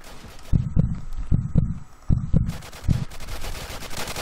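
Rapid gunfire bursts ring out in the video game Apocalypse Rising, a quick string of sharp close shots in the first half followed by a couple more cracks, then a busier clattering background.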